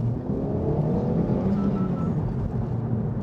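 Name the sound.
Honda Civic Type R full acceleration from toll booth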